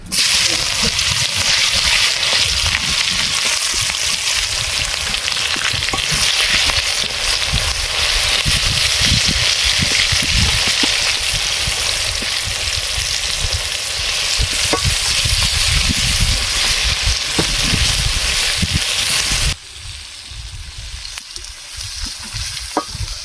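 Raw onions eased into hot oil for a jackfruit and prawn curry, producing a loud, dense, continuous frying sizzle with stirring that runs close and steady for about twenty seconds before dropping to a quieter hiss near the end.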